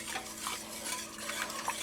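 Whisk stirring chicken stock in a pan, a steady soft scraping swish with faint metallic clinks, quiet and close with no talking.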